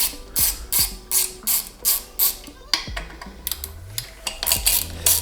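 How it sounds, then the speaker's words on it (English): A 4mm hex tool ratchets in quick repeated bursts while unscrewing countersunk bolts on a bicycle, close and fairly loud, with clicking pawl sounds and a few metallic taps between turns. "To remove them, I'm going to need to get my 4mm and unscrew."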